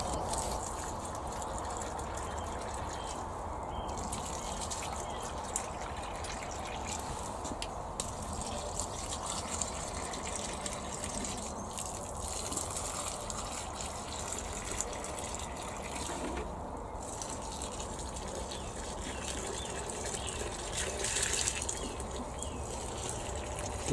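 Water gushes and splashes steadily from a hose or can onto tomato and cucumber plants in a greenhouse, a continuous soft pouring that goes on without talk.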